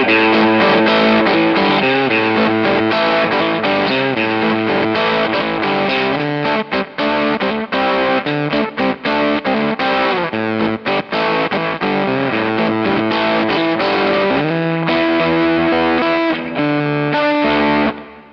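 An electric guitar runs through a KingTone MiniFuzz v2 fuzz pedal, playing loud, saturated chords and bluesy single-note lines in a continuous phrase with brief choppy gaps, ending on a sustained note.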